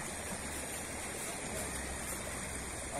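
The Cañaveralejo River rushes steadily at its intake, a continuous broadband flow with no pauses or voices.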